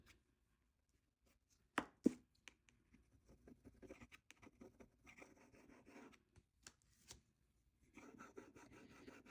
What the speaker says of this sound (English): Just love how you can scrape away